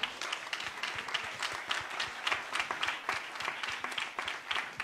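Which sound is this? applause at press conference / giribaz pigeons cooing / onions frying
applause at press conference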